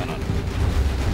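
A Command & Conquer Generals Zero Hour quad cannon hammering away in a brief, loud burst of rapid heavy shots over rumbling battlefield noise.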